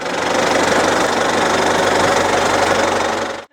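A tractor engine runs steadily while pine seedlings are machine-planted in autumn forest planting in Poltava region, Ukraine, giving a loud, continuous knocking drone that holds for several seconds and then cuts off abruptly.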